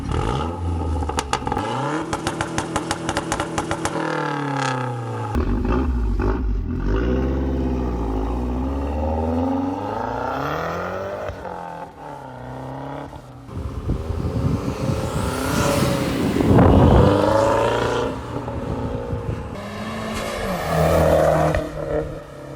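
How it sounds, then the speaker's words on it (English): A Mazdaspeed 3 exhaust with catted downpipe and MagnaFlow 3-inch catback rumbling and revving repeatedly, engine pitch rising and falling through several throttle blips and accelerations, loud and close throughout. "I'll throw up a couple exhaust clips."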